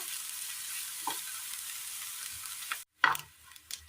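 Onions being sautéed in a pan, a steady broadband sizzle for most of the stretch, then a sharp gap and a clatter of stirring near the end.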